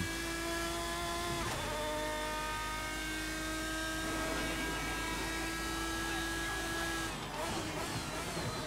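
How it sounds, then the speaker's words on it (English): Lanzo V12 GT1 race car, based on the Lamborghini Murcielago GT1, droning at steady high revs in a sim racing game, a sustained engine whine with a shift near the end, faint under the mix. "I'm in the Lanzo V12 based off the Lamborghini Murcielago GT1"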